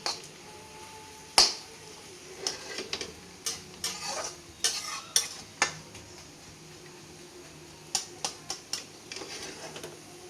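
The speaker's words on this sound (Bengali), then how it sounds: "কত সুন্দর শাকবাজি করছে" Leafy greens are stir-fried in a pan with mustard oil, giving a faint sizzle under a run of light utensil scrapes and taps that speed up in places.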